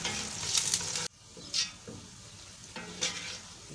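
Onions are stirred in hot oil for beef paya, a bright crackling sizzle that dips abruptly after a second, then returns with a few scraping stirs, close and no talk.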